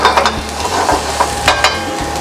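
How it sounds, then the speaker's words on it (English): Minced garlic sizzles in a hot pan heated to 350 degrees, a loud, close, steady frying hiss with a few stirring scrapes. "We start with a real 350 degrees heat pan. We're gonna add some minced garlic."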